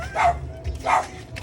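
Dogs bark and yip in two short, fairly close bursts outdoors, with a pause between them and a low rumble of background noise underneath.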